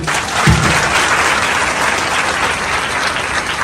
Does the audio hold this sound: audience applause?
yes